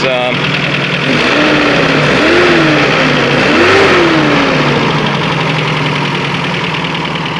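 A car engine idles and revs, rising and falling a couple of times, with a rough knocking undertone beneath the steady drone.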